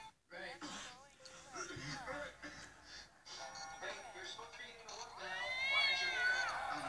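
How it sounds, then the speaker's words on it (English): Cartoonish cat meows ring out inside a Roblox elevator game, several short, rising and falling mews climbing toward the end, mixed with other game sounds while someone talks over them. "I heard meowing."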